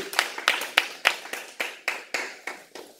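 A church congregation at a Sunday service claps to acclaim the word of God, about ten crisp, evenly spaced claps building into a steady rhythmic beat, fairly close and clear with no talking.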